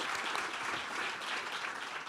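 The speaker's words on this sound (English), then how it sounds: "we have, yes, lots of applause." Sustained audience applause at a panel talk on race, justice and the economy, a dense steady wash of many hands clapping at an even level throughout.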